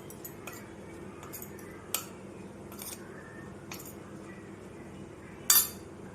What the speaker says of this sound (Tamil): இப்போது உப்பு சேர்த்து எல்லாத்தையும் மிக்ஸ் பண்ணிடலாம்